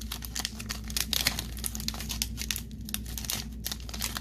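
Crinkly foil wrappers of vintage trading card packs are torn and crumpled open one after another, a busy rustling and ripping close by.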